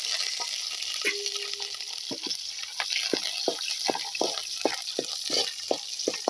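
Spices tempering in hot oil for a lentil dish, crackling and spluttering in a series of sharp pops over a steady background sizzle, close and fairly quiet.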